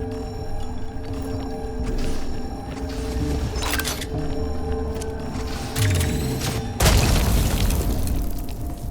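Explosions in the video game Flashback 2 go off as booming blasts over a steady droning hum, the loudest burst near the end, with no talk.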